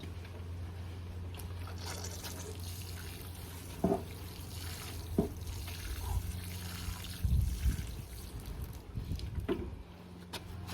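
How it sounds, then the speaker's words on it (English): Water pours from a watering can onto garden soil, trickling softly at close range, with a few small knocks and splashes, quiet and continuous. "get my watering can"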